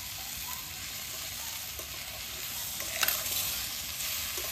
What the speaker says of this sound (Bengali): এবারে ভালো করে নেড়ে নেড়ে এই হলুদের কাঁচা গ্যাসটা কাটিয়ে নিতে হবে।